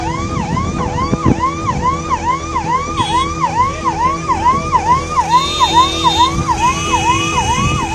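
An ambulance stuck in a traffic jam on a waterlogged flyover in Delhi during heavy rain: a loud, close siren wails in rapid repeating sweeps, joined near the end by a second steady siren tone and traffic rumble.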